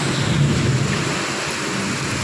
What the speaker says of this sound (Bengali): আকাশে কীরকম বিদ্যুৎ চমকাচ্ছে, বাবা একদম পুরো আলোয় ভরে যাচ্ছে, এত জোরে জোরে বিদ্যুৎ চমকাচ্ছে